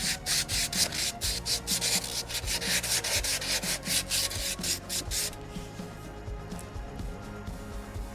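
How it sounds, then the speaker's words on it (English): Hand scuffing of rust and old paint on a Chevy Express camper van roof, a close, loud scraping rub in quick repeated back-and-forth strokes that stops after about five seconds, leaving a lower rough rumble. "hit this up a little bit, scuff it up, get rid of some of that rust, and just break off these pieces."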